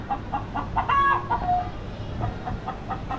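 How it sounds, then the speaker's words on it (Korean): Chicken clucking plays at a morning market in Indonesia, a series of short rhythmic clucks and cackles, fairly loud, over a background of market noise. "닭 소리가 컨셉 좋네요"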